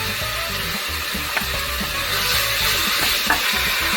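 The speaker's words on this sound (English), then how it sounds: "I'm going to let this cook until the beef is no longer pink" Minced garlic and ground beef sizzle in a pan, a steady close frying hiss broken by a couple of light scraping stirs.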